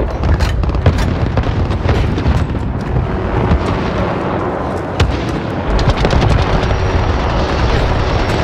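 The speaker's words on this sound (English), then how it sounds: "Allied cruise missile away." A cruise missile strike in the Modern Warfare video game, heard as a dense, loud wall of rumbling explosions and booms with sharp cracks scattered throughout, continuous for about eight seconds.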